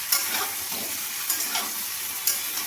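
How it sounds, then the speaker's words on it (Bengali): Chopped ridge gourd and bottle gourd frying with tempered spices, a close steady sizzle broken by three spatula scrapes and stirs against the pan. "এবার সমস্ত সবজিগুলো আমি ভালো করে ভেজে নেব ফোড়নের সঙ্গে।"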